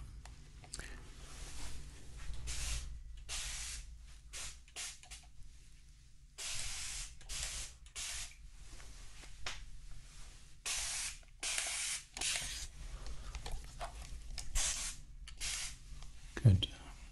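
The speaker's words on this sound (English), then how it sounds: "just going to spray up there a little bit." A spray bottle mists repeatedly during a barber's hot towel shave, with many short close hissing bursts in irregular succession and quiet talk between them.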